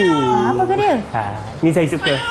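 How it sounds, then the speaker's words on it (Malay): A cat meows in a preschool animal-sound guessing game: a few drawn-out, pitch-bending cries close up, with someone speaking between them. "Saya rasa ini bunyi kucing."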